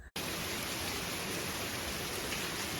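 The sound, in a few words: heavy rain downpour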